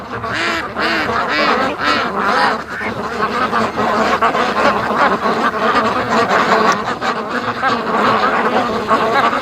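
Steady chorus of quacking ducks around an aluminum boat on a lake, many overlapping calls close by and continuous for the whole stretch.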